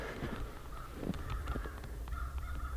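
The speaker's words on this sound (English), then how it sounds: "Crows are making a big fuss." Crows caw repeatedly in an outdoor winter setting, with scattered harsh calls rising over a steady background hiss, sounding moderately distant and carrying on throughout.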